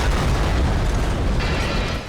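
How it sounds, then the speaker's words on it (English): An explosion during a deadly tornado striking steel buildings in an industrial complex: a dense, loud, sustained roaring blast that fills the whole clip and thins slightly at the very end. "And then an explosion."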